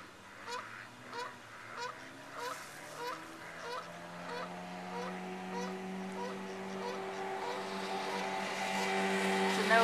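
Several geese honk in a steady series of calls, moderately near, over a continuous low barge engine drone that grows louder toward the end, on the Illinois River.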